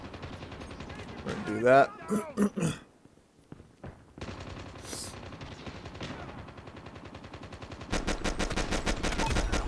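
Pistol fire in the video game Call of Duty Mobile, with a cluster of sharp shots early on and denser gunfire toward the end, mixed with game effects while a player talks.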